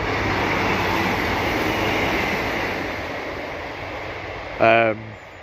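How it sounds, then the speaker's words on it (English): Broad rumbling roar of a train passing at a distance, fading slowly, with a brief voice near the end. "Here comes the train now."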